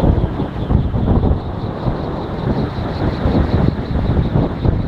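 A DIY axial flux wind turbine spinning fast in strong wind, a steady whirring hum buried under loud, gusty wind buffeting the microphone throughout.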